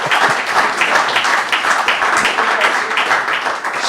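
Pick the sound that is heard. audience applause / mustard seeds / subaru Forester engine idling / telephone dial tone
audience applause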